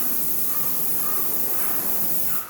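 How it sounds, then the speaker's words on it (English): An airless sprayer applies semi-gloss enamel paint to doors, a steady, close hiss of spray running unbroken for a couple of seconds before cutting off abruptly. "we're going to spray 2 coats of a semi-gloss enamel finish"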